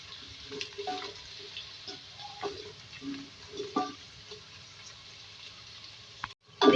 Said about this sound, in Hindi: इसमें हम प्याज डाल देंगे। फ्राई करेंगे।